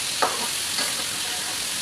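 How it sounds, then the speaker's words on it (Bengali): Chicken pieces are stirred with spice paste in a hot pan of oil, with a steady close sizzle underneath and a couple of brief scraping strokes of the spatula, and no talking. "দিয়ে ভালোভাবে নেড়ে চেড়ে মশলার সাথে মিক্স করে নেব"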